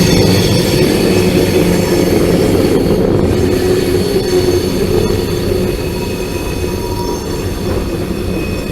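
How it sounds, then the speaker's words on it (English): A loud, steady rumble of a train rolling past on an elevated trestle with grinding wheel noise and faint squeals, continuous throughout, no talking. "You can also see in the mirror of that building the trains going by."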